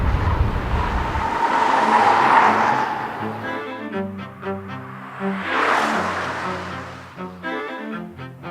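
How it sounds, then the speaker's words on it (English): A 2013 Audi S8 driven hard through corners, tires squealing and howling as the car slides, with engine roar rising and falling between bursts, close and loud with no talking. "you can hear those tires just howling"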